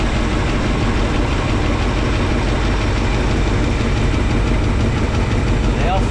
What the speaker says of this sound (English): There it is, running with the valve cover off of its driver's side.